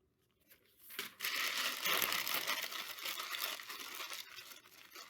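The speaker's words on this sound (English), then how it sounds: "So you crumple it up." Thin newsprint paper being crumpled into a ball for a cardboard and papier-mâché project, a close, continuous dry crinkling and rustling that starts after a quiet second and carries on steadily to the end.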